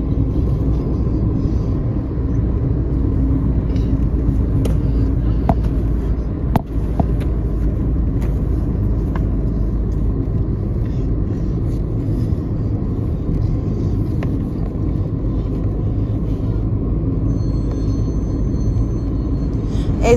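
Car cruising on a long road trip from Bangalore to Paralakhemundi, Odisha, with a steady loud low engine and road rumble running throughout, a few faint clicks over the drone, and no talk.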